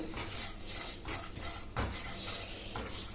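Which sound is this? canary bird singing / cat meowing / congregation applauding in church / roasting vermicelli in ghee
roasting vermicelli in ghee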